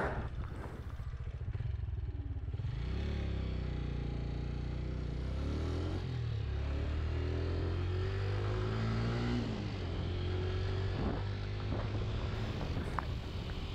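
A Peda Pro XT 125 motorcycle on a top-speed run on a windy road, its engine droning and rising in pitch through gear changes under heavy wind buffeting on the microphone.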